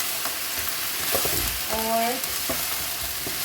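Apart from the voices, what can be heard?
mutton being fried in a pan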